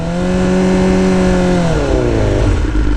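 A loud, close motorcycle engine revving steadily, its pitch holding high then sagging and slurring as the revs drop as the clutch slips.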